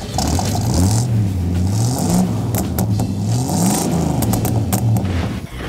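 Car engine revving at a small-town car show in Scranton, Kansas: a loud, close engine rising and falling in repeated throttle blips over several seconds, with rattling mechanical clatter.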